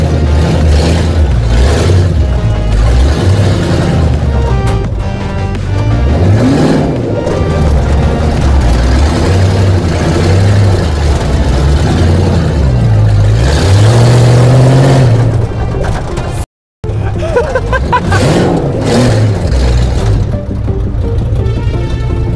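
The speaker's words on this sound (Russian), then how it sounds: "мотору не очень, надо все-таки по нормальной схеме его подключить, но пока едет." A Lada Zhiguli car engine, not yet wired up properly, drones loudly and continuously while driving, its pitch rising and falling as it revs, with a brief cutout partway through.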